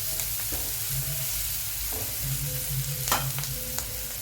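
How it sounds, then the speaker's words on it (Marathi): Sorghum breakfast dish with onions sautéing in a pan, a steady low sizzle with scattered stirring scrapes and light clinks throughout, close and moderately loud with no talking. "पौष्टिक आहे. परतून घेऊया."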